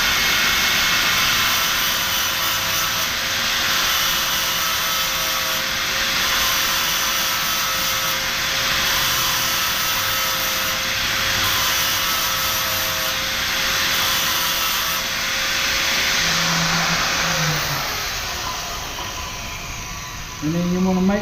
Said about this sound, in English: what you want to do is turn the grinder on. This might be a little bit loud.